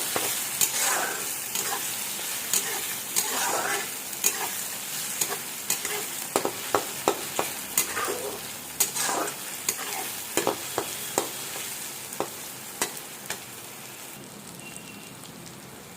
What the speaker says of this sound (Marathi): टोमॅटो सुद्धा सॉफ्ट होईपर्यंत परतायचं तेलामध्ये।